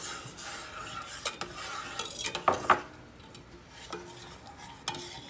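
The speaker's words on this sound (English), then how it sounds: "now she's going to add the pectin and stir" A spoon stirs pectin into boiling violet jelly liquid in a pot, making soft swishing and a couple of brief metallic clinks against the rim over a low bubbling background.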